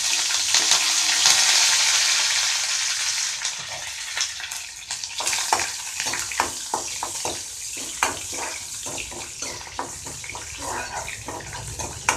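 Shallots and curry leaves fry in a pan for a Tamil banana stem stir-fry, giving a loud, steady sizzle that settles into crackling pops and light stirring scrapes, with no voices.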